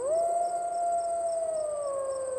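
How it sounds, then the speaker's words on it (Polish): A long, drawn-out wolf howl, used as a sound effect in a children's fairy tale, rises and then holds a steady tone before slowly falling away. Faint higher howls sit in the background and no one speaks. "Gdzieś tam hen dało się słyszeć przeciągłe wycie wilków."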